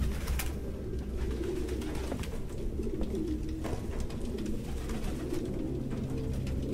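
Pigeons coo in the game Detroit: Become Human, a steady murmur of soft repeated calls from a flock nearby over low ambient game noise, with no talking.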